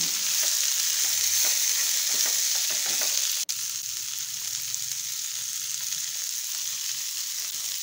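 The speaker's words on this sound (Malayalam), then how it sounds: "നമുക്ക് ഇനി ഇതിനൊപ്പം തന്നെ സവാള വഴറ്റി ഇട്ടിട്ട് വഴറ്റിയെടുക്കണം." Onions with green chilli and garlic sauté in a pan, giving a steady, close sizzle and fry with one sharp click in the middle and no voices.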